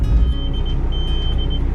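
A Nissan Terrano, modified from 4x2 to 4x4, drives slowly along a university campus road; a steady low engine and road rumble is heard from inside the cabin, with no talk.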